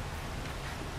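Rain falls steadily in the survival video game 7 Days to Die, a dense even hiss of drops on surfaces with no gaps and no other sounds over it.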